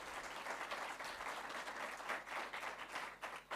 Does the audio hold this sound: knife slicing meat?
no